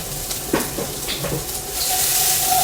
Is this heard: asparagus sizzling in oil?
yes